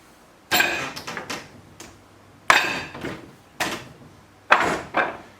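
Sharp wooden knocks from strikes on a wooden training dummy, several hard impacts each followed by quicker rattling clacks, arriving in irregular bursts, close and loud with no speech.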